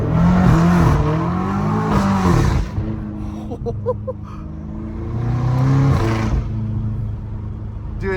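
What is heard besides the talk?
catless BMW M5 Competition exhaust revving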